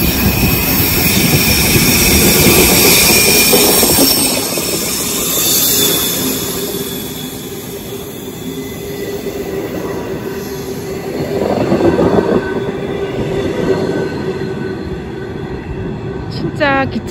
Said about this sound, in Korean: 또 기차가 오네요, 여러분.